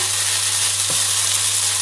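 Spätzle dough frying in a hot pan over moderate heat, giving a steady, soft sizzle that runs evenly throughout, with one brief stir-like bump midway and no voices.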